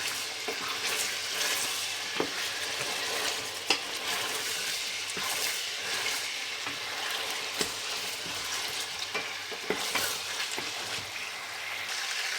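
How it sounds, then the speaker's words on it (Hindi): Chicken for Peshawari charsi karahi sizzles steadily in hot oil, with a ladle scraping and knocking against the karahi every few seconds, close and continuous with no voices. "तीन से 4 मिनट इसको भूनेंगे, गोल्डन करेंगे।"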